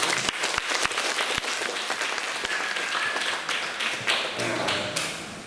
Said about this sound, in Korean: 그래서 먼저 명전 가족 1호 집 축하 박수 부탁드립니다.